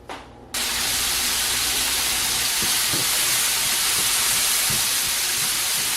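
Turkey stir-fry cooking in a pan over medium-high heat gives a loud, steady broadband sizzle and hiss that bursts in suddenly and holds, with faint spits and pops underneath and no speech.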